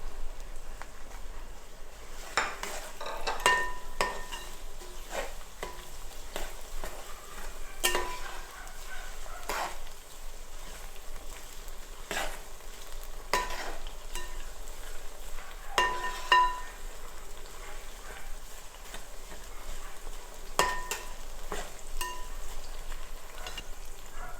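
Garlic and green chillies fry in coconut oil in a pan for mango pickle, giving a faint, steady sizzle broken by soft scrapes and clinks of stirring.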